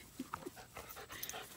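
A dog pants faintly on a farm, with soft, irregular breathy puffs spread across a short, quiet stretch and no talking.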